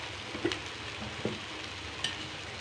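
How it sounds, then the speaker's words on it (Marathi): Green chili kharda sautés in oil with a quiet, low sizzle, broken by three soft clinks or taps from stirring. "हा फक्त तेलावरतीच परतायचा"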